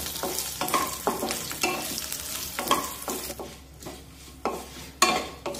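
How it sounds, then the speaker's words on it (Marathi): Spice masala stir-fried in a pan over a medium flame, steady sizzling broken by repeated scraping strokes of a spoon, close up with no talk. "मध्यम आचेवर हा सर्व मसाला छानपैकी परतून घ्यायचा आहे"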